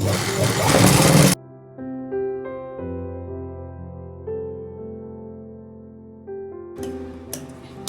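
A sewing machine stitches trouser fabric in a loud, dense whir lasting about a second. Music follows, and short bursts of the machine return near the end.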